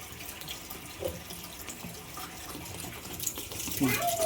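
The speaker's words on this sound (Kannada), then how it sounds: "ನೀರು ಹಾಕ್ತೆ ಗೈಸ್ ಜಾಸ್ತಿ ಆಗೋಯ್ತು ನೀರು" Water runs and splashes steadily into a container, a continuous pouring sound with a brief louder gush near the end.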